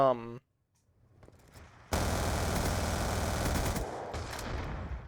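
Video game gunfire comes in a sustained burst of rapid automatic shots, loud and close, cutting off and then resuming briefly after a short voice at the very start.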